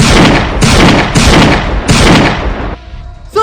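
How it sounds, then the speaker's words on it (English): Sniper gunshots fired at a coffee shop ring out as loud, sharp cracks in a steady series of about four evenly spaced blasts with long roaring tails, ending in a quieter stretch. "The snipers are still shooting at the coffee shop!"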